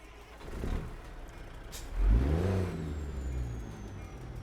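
A stalled semi truck restarts, a low diesel engine turnover catching and rising into a steady idle, close and loud, with a brief hiss at the start, recorded in the cab.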